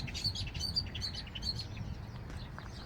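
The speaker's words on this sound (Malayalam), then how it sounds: "ആ കുരുവികളും ഇവിടെയുണ്ട് സൗണ്ട് മാത്രമേ കേൾക്കുന്നുള്ളല്ലോ" Small birds chirp in quick, high, repeated tweets against a soft outdoor background, fairly faint and distant, with no voices.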